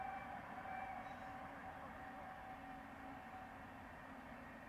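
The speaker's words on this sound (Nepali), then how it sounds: "के लामो ट्रेन हौ" A train rumbles past at a distance with a steady low roar and faint metallic squeal, continuous throughout.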